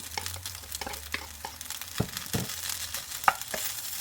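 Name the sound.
stirring egg hotdog fried rice in a pan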